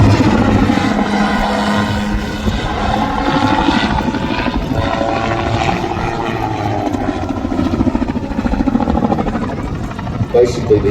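An autogyro flies a display at the Midlands Air Festival 2024, its rotor and engine giving a steady droning whir with a faint rhythmic chop, heard under continuous commentary.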